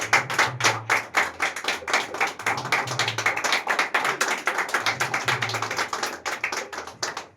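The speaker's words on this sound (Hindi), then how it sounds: "जोर से ताली बजा के परमेश्वर के वचन का स्वागत करेंगे" A congregation at a Friday prayer meeting claps loudly in a fast, steady rhythm, many hands together, close and sustained with a low hum underneath.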